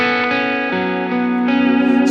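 An electric guitar plays through a Silktone germanium fuzz pedal set halfway, giving a cleaner, ringing tone; a few chords change in sequence, loud and close, with a slight wavering shimmer at the end.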